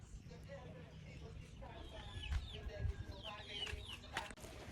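Chicken clucking near a house yard, short repeated clucks over steady outdoor background with light talk nearby.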